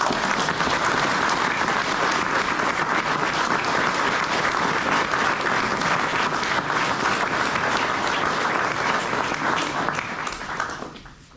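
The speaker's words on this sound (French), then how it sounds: "Je vous remercie de bien vouloir tous les applaudir." Sustained, dense applause from a large audience for the staff at the inauguration of a headquarters building. It holds steady and loud for about ten seconds, then tapers off near the end, with no speech over it.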